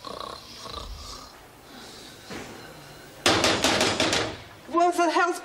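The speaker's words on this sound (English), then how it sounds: "He was snoring." Snoring in a prison cell in a TV drama, rough rattling snores that build to a loud burst, mixed with thumps and ending with a voiced snort.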